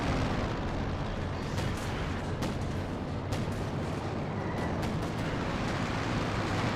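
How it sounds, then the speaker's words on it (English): Artillery shelling pounds a headquarters in the World War II strategy game Company of Heroes 2, a dense, steady rumble of distant explosions and thuds with a few sharper impacts punctuating the barrage. "My HQ is getting shelled by artillery."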